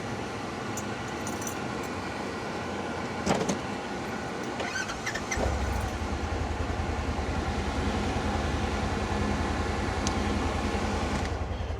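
A Polaris fire department utility cart powers up with a couple of clicks and a brief whir, then settles into a steady low electric hum that continues evenly, close and moderately loud.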